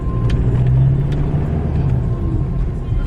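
Road traffic passing near an IKEA store, a steady low rumble of cars going by close, continuous and fairly loud, with no voices over it.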